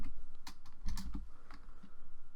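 Typing on a computer keyboard, a close series of quick, uneven key clacks with a few louder strikes, over a low steady hum.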